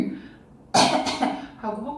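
A person demonstrates a vocal tic by clearing the throat, a short harsh burst close up, followed by a second rasping sound; there is little else around it.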